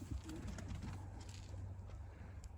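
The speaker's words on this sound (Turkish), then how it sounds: "ilgilenmediğimiz kuşları uçuruyoruz şimdi" Pigeons being released by hand at a bird keeper's loft, with soft cooing and faint wing sounds under steady low background noise.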